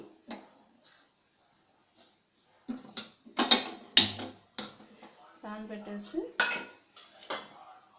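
A pan set on a stove for coconut rice, heard as several sharp metallic clanks and knocks of cookware, close and fairly loud, spread across quiet pauses with a few softer clinks.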